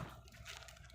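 Strong gush of water at a seaside fishing spot, heard as a brief, faint, steady rushing wash with no talk over it.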